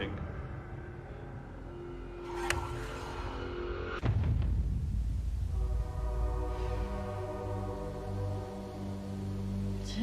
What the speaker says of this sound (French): Voilà les trains maintenant.